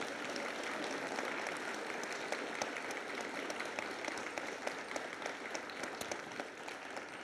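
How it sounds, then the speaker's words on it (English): Eighth graders at a 2023 bridging ceremony applaud school leaders, a sustained crowd of many hands clapping at steady volume throughout, sounding roomy and evenly dense without breaks. "8th graders, please share a round of applause for these leaders at CEC."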